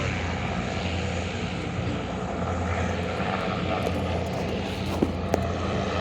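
Goodyear blimp engines droning steadily at an airshow, a continuous distant propeller hum that stays even throughout with no talk.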